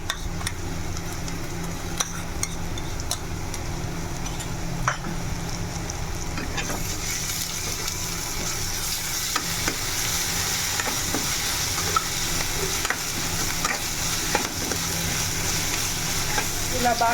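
Masala paste frying in hot oil for chilli chicken, a steady loud sizzle that lasts the whole time and grows brighter midway, with scraping stirs and utensil knocks throughout.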